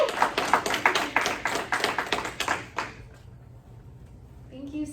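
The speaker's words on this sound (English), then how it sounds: "Please, a round of applause for Montana Skirka." An audience at a talk on self-care for cancer advocates claps briefly, a burst of near applause lasting about three seconds before fading into quiet room tone and a speaker beginning to talk.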